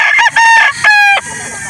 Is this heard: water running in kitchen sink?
no